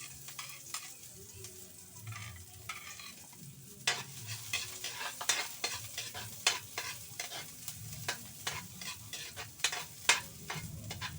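Onion sautéing in a pan for a Filipino upo and sardine dish, with a steady close sizzle and repeated sharp scrapes and clinks of a spatula stirring through, growing busier and louder after the first few seconds.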